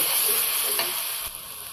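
Onion and green chilli paste hitting hot oil in a wok, a strong bright sizzle that fades gradually over a couple of seconds, with a faint stirring knock near the end.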